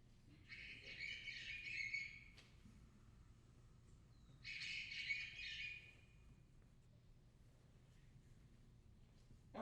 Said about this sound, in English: Eastern bluebirds sing a warbling song, relatively low-pitched for a bird of its size,